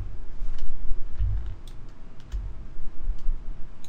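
Keys on a computer keyboard being pressed for a software shortcut, a few light, crisp clicks scattered over a low rumbling background hum, close to the microphone.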